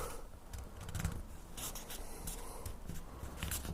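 Paper being folded and creased by hand into a Dune-style card holder: soft, close rustling and rubbing, with brief crisp scrapes over a steady papery hiss and no talking.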